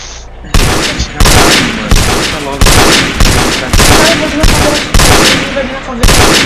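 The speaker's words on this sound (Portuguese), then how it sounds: "Os caras tão dando tiro do nada, tio." Gunfire in a video game favela shootout: loud, close bursts of shots strike roughly every half second to second, one hard volley after another with a brief quieter gap at the start.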